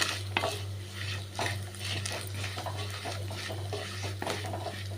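Onion and garlic sauté with masala in a pan on a simmer for curry leaf garlic kulambu, a steady frying sizzle with soft stirring scrapes throughout, close and moderately quiet, no voices.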